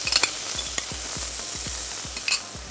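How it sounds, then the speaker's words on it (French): Onions and mustard stirred in a saucepan with melted butter, a spoon scraping in a steady rhythm of repeated strokes over a soft continuous sizzle, close and clear with no speech. "Et on mélange."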